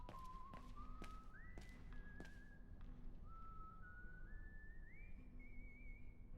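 A character whistles a wandering melody in Syberia The World Before, the tune stepping up in pitch in phrases over faint background ambience, with occasional light taps and no talking.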